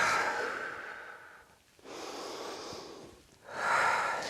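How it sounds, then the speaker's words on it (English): Slow, deep breaths during a kettlebell workout cool-down: a long breathy inhale, a pause, then a big audible exhale and another breath, close and alone without talk. "We're going to roll our shoulders as we inhale and big exhale."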